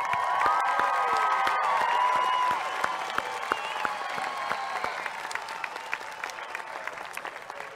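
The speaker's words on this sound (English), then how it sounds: "How about a round of applause?" A graduation ceremony crowd applauds and cheers, with whoops and high voices over dense clapping at first, then easing into thinner, scattered clapping that tapers off.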